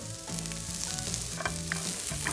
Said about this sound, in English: I'm gonna go in with these and get them going in the skillet